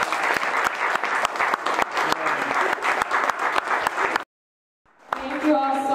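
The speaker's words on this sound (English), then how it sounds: "Please give them one more round of applause." A crowd applauds after a spoken word performance, with dense, loud clapping for about four seconds that stops abruptly. Then a brief silence falls and a voice begins to speak.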